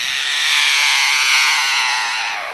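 An Australian lyrebird mimics a chainsaw with a loud, steady, raspy buzzing drone that holds without a break for about two and a half seconds and fades slightly toward the end.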